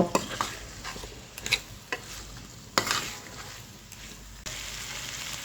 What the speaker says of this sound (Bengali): মশলার সঙ্গে ডুমুর এবং আলুটাকে খুব সুন্দরভাবে কষিয়ে নেব